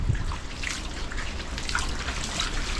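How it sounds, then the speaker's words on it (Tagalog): Typhoon floodwater dripping and trickling into a house, steady close water noise with scattered drip splashes throughout, no clear voices. "Yan, pinasok na tayong tubig."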